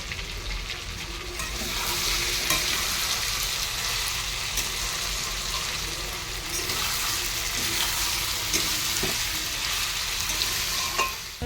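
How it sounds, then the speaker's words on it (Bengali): Elephant foot yam, potatoes and prawns sizzle steadily in hot oil, a continuous close frying hiss with occasional stirring scrapes throughout. "রান্না করছি ওলকচু দিয়ে, আলু দিয়ে, চিংড়ি।"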